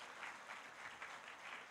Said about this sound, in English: Let's give Mr. Smoot another huge round of applause.